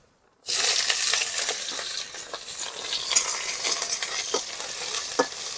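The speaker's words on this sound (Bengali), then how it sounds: "ফোড়নে দিচ্ছি দুটো তেজপাতা সামান্য একটু পাঁচ ফোড়ন ফোড়ন তেজপাতা পাঁচ ফোড়ন তেজপাতা ভালো করে ভাজা হয়ে গেছে এবার দিয়ে দিচ্ছি পেঁয়াজ কুচি" Chopped onion dropped into hot oil with bay leaves and panch phoron for a fish curry, a sudden loud sizzle that keeps hissing with scattered stirring scrapes and clicks close by.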